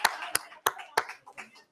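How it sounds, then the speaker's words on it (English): A few sharp, evenly spaced hand claps ring out in a conference session in Nairobi. Four crisp claps are close and fairly loud, followed by softer trailing sounds. "I must clap for all of you"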